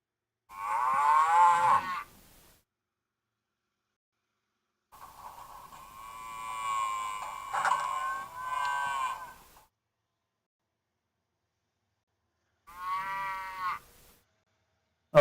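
Cattle mooing in three separate bouts, a short low moo, a longer drawn-out call, then another brief moo, each standing alone with silence between.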